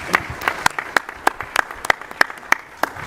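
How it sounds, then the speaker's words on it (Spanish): Small audience in the Mexican Chamber of Deputies claps to welcome Pablo Iglesias, with sparse, distinct sharp claps standing out over a softer background patter, fairly close and loud. "Te recibimos de forma muy afectuosa con un fuerte aplauso"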